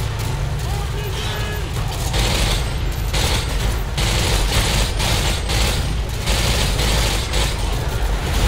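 Relentless blind gunfire in Call of Duty 2, a loud, dense, continuous barrage of shots over rumbling battle noise, with someone speaking throughout.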